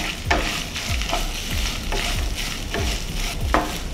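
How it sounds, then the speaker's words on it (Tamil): Grated coconut sautéed in a pan on low flame with curry leaves for coconut rice: a continuous close sizzle with about seven evenly spaced scraping strokes of a spatula, loud and alone. "இதில் தேங்காவை போட்டுறேன். போட்டு வதக்கலாம்."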